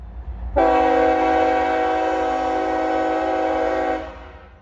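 A CSX Chessie 1973 locomotive blasts its multi-chime train horn at night, one loud, steady, sustained blast lasting about three and a half seconds, close by and heard alone with no talk.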